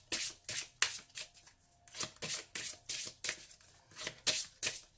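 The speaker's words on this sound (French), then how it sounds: "Donc, on mélange et on piochera toujours 3 cartes dans cet oracle." A deck of oracle cards is shuffled by hand in quick repeated bursts of riffling and sliding, close and crisp, with short pauses between the passes and no talking.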